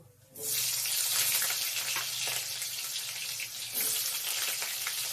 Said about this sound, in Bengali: আলুটাকেও ভালো করে ভেজে নেব